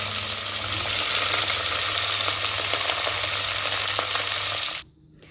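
Mustard seeds, cumin, a little cinnamon, cloves and chopped vegetables fry in hot oil with a loud, steady, close sizzle that cuts off abruptly near the end, with no talking.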